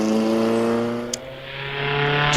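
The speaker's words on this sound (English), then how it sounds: "an original, patinated, not over-polished Type 35, making all the right lovely straight 8 roller-bearing" An original, patinated Bugatti Type 35 vintage racing car with a 2.3-litre straight-eight roller-bearing engine runs at the Prescott hill climb, giving a loud, sustained, even engine note with a brief sharp click midway.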